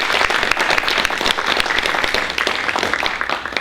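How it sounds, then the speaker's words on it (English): A round of applause in a board of education meeting honoring graduating students, loud, close clapping from a room of people that stays strong and fades slightly near the end. "They deserve a round of applause."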